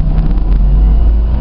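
A 1992 Toyota Supra's 500-horsepower engine pulls hard under acceleration, a loud, steady low rumble heard from inside the car, heavy and continuous with some wind buffeting.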